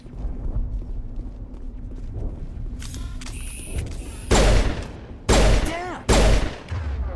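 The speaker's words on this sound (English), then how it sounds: "What are these guns even firing at?" Gunfire in the video game Mass Effect: a few loud, sharp bursts of shots crack out in quick succession over a low ambient rumble.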